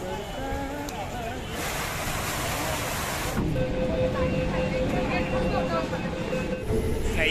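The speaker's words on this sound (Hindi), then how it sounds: "दोस्तों ये आ गई हमारी मेट्रो जो सिया।" A Kolkata Metro train arrives on the Salt Lake to Sealdah line, a loud, steady rumble with a broad rushing surge and a tonal whine emerging midway as it pulls in close.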